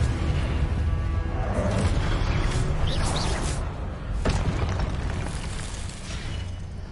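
Fiery blasting-spell explosion from Confringo in Hogwarts Legacy, a dense roaring burst that fills the scene, with a sharp crack near the middle amid continuous game din.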